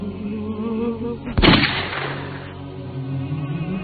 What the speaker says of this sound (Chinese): 砰的一声枪响，秦哥握着手枪从腋下朝后开枪